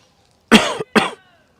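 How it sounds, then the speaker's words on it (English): A person gives two quick, close coughs in succession against a quiet background. "You also have cough."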